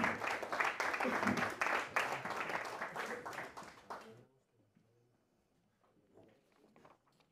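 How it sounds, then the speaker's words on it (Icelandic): An audience at a handball awards ceremony gives loud, sustained applause that tapers off into scattered claps, with a presenter talking as it fades. "Gefum þeim gott klapp."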